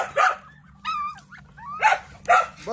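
A guard dog gives several loud, close barks, broken by a higher whining yelp between them, on a backyard farm with poultry.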